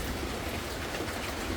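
Steady rain falls in Cikalong Kulon, a continuous, even hiss of drops that fills the background throughout with no talking.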